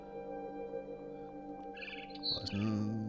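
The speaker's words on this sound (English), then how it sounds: "Then I heard chirping outside my window. It was a barn swallow going back to her nest." A barn swallow chirps in the video game What Remains of Edith Finch: a short burst of bright, high chirps near the middle and end, over a steady low background hum.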